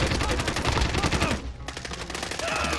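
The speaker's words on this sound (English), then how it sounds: "we're getting shot from like 5 different sides" Rapid automatic gunfire in a first-person shooter, a steady stream of close, loud shots that breaks off briefly in the middle before the rattling bursts resume.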